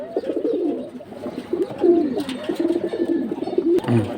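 A large Giribaz high-flying pigeon coos repeatedly up close, soft throaty rolling calls in a steady rhythm with a few faint clicks around it.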